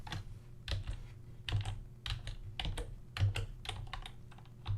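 Steady, rapid clicking of keys on a computer keyboard during a coding session, close and fairly quiet, with an even typing rhythm and a low hum underneath.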